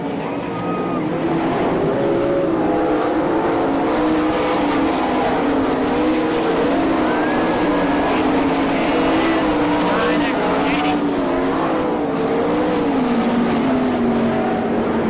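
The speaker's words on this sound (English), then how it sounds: "as Rod George continues to lead in car number 4." Race cars roar around the track at an All Stars versus NCRA Eastern Shootout in Franklin, Pennsylvania, their engines a loud continuous drone that rises and falls as cars pass, with a commentator talking over the noise.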